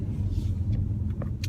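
Low, rumbling exhaust of a 2018 Jaguar F-Type 400 Sport cruising at low speed, a steady deep drone with a few brief higher blips, heard from close by.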